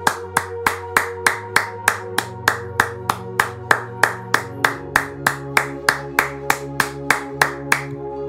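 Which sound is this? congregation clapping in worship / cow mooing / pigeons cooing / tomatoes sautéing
congregation clapping in worship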